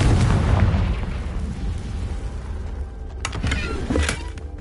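A Confringo spell in Hogwarts Legacy lands as a loud, close fiery blast, a booming rumble that fades, then sharper crackling pops follow.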